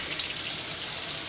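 Steady hiss of tap water running from a bathroom sink faucet into the basin, continuous and close, with no voices.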